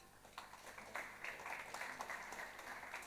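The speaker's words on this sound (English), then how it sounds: "Please give him a round of applause." Faint audience applause welcoming a keynote speaker to the stage at a conference, a soft steady patter of clapping from a distant crowd.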